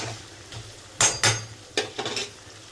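Chicken fry stirred in a pan, with a few distinct bursts of scraping and sizzle between quiet moments, close and moderately loud.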